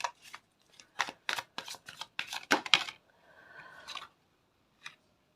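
Tarot cards being shuffled by hand, a rapid series of crisp riffling flicks and slaps close up, followed by a softer sliding sweep and one last tap.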